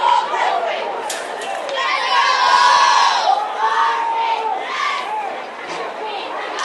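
A crowd cheers, shouts and chatters at a spring high school football scrimmage on the home field of Riverdale High School, a loud continuous roar of many voices with whoops rising and falling.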